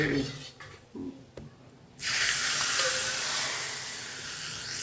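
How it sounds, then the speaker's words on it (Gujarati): Ghee tempering for kadhi with cumin, fenugreek, cloves, curry leaves and asafoetida bursts into a loud, close sizzle partway through, after a few quieter clinks, then hisses steadily to the end. "કઢીનો વઘાર"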